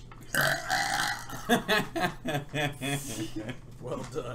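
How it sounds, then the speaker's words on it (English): Button-triggered burp sound effect during a tabletop dungeon game session, a loud belch mixed with chuckling and snickering people talking around it. "She pushed the burp button."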